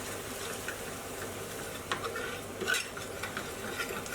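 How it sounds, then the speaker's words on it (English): A utensil stirs spice powder and dried fenugreek leaf in a chicken Madras curry pan, soft scraping and light clinks over a low sizzle, fairly quiet, with a few louder scrapes. "Add the mixed powder and continue to stir, followed by the dried fenugreek leaf."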